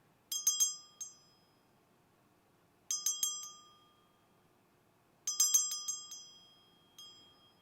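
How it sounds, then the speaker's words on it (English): A bell rings in bright clusters of quick strikes, three groups with short decaying tails and silence between, used for tuning the root chakra. "So you're going to hear a bell."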